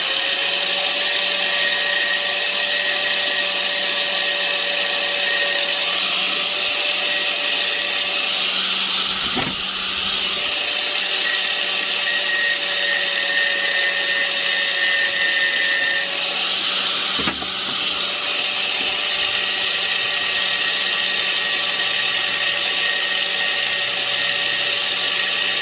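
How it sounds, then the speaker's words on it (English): An angle grinder runs steadily against metal samples during spark testing, a loud continuous high whine with two brief dips where the wheel eases off the workpiece. "just to show you how it works with the angle grinder"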